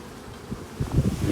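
Honeybees buzz at an open hive in late autumn, a soft, close, low hum that swells in the second half amid faint wind-like noise.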